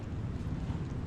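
Strong seaside wind buffets the microphone in a steady, dense low roar with no breaks, like gusts blowing off rough water along a shoreline at night.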